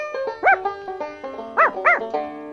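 A lively puppy yips and barks in several short, high-pitched bursts, with whimpering tones between them, close and fairly loud, with no talking.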